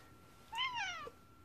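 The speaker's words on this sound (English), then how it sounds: "Okay, there's a cat." A single cat's meow, a clear rising-then-falling call about half a second long, close by in an otherwise quiet indoor room.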